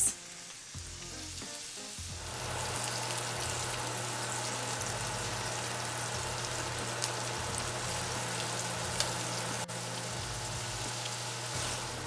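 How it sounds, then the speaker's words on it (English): Swedish meatballs sear in a hot pan, a steady crackling sizzle that starts with a few soft placement sounds and then holds continuous and close for the rest, with no talking. "We're gonna add them to the pan and you're gonna let them sear for about 2 to 3 minutes per side"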